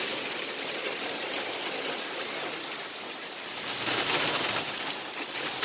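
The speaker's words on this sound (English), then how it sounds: "See how hard it's raining?" Heavy rain pours down during a hurricane scare, a steady dense hiss that swells slightly in places, with no voices over it.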